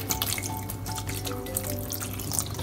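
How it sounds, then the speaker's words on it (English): Sake poured into a pan while cooking Japanese boiled red snapper, a continuous close splashing trickle of liquid with no talk. "you pour sake into a pan"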